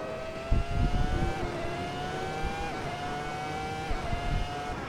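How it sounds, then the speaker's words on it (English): Ferrari F2004 Formula One car engine in Assetto Corsa, revving hard near the upper end of the rev limit with rising and dropping whines as gears change, steady and loud throughout with no talk. "we've been tickling the engine there on the upper end of the rev limit"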